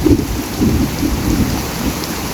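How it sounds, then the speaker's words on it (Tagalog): Heavy rain pouring steadily onto garden plants outdoors, with a low rumbling undertone, dense and close, no voices. "Lakas ng tubig. Lakas ng ulan."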